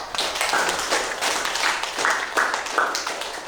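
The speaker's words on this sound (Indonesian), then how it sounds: "Sekali lagi aplaus dulu untuk semua kelompok" Applause for all the student groups after their presentations in a classroom: steady, crowded clapping from many hands throughout, moderately loud and continuous.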